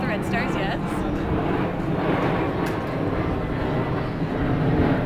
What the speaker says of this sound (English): We'll just wait for that plane to pass over.